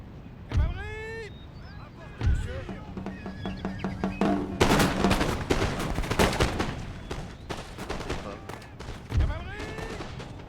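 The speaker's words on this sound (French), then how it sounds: "Voilà, il tire une rafale et c'est bon, c'est mort." Gunfire from soldiers in a strategy game set in the Kingdom of France: a burst of rapid shots amid battle noise, with other game effects and a distant whinny-like sound, loud and dense.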